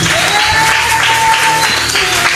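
A crowd claps and cheers in praise of Jesus at a church gathering, a loud, dense wash of applause with steady clapping and raised voices filling the whole moment.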